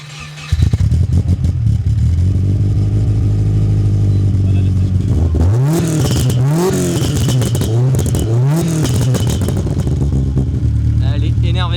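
A 600 hp Subaru GT Turbo time attack car fires up loudly and settles into a rough idle, then gives a run of sharp, rising revs before dropping back to idle, close by.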